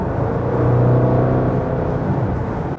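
A Jaguar F-Pace SVR's 550PS V8 engine gives a steady, loud low rumble from inside the SUV, with a brief rising tone in the middle, heard alone without talk.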